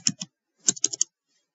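Computer keyboard typing, two quick keystrokes, a short pause, then a rapid cluster of about five clicks, close and crisp in a quiet room.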